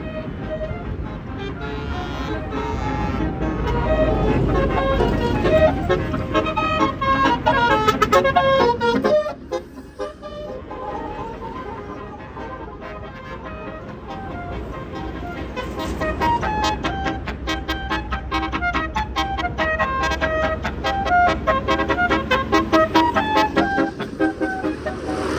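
Basuri telolet horn on an Indonesian tour bus playing a loud, melodic run of tooting notes over traffic and engine noise at a roadside souvenir stop, with a brief dip before the tune resumes and carries on.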